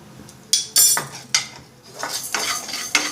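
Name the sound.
roasting rice and lentils in a pan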